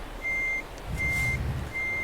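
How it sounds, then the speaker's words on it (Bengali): Truck reverse alarm from Euro Truck Simulator 2 sounds in three steady high beeps spaced about a second apart, clear over a low engine rumble that swells between them, with no talking. "ব্যাক গিয়ার মারো, ব্যাক গিয়ার মারো।"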